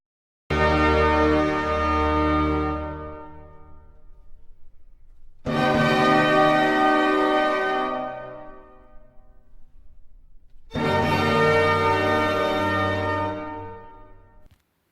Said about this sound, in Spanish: nos vamos a la tonalidad mayor de mi bemol y fijémonos cómo suena el comienzo de la obertura de la flauta mágica, totalmente solemne y brillante